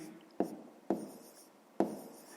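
A fraction being handwritten for a fifth-grade math exercise: three short, distinct scratches of pen on paper at even intervals, close and clear in a quiet room.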